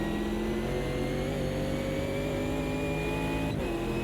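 Race cars in the Automobilista 2 sim racing game, one of them a Ginetta, scream past with high, steady engine whines. Pitch rises across the clip, then briefly dips at a gear change.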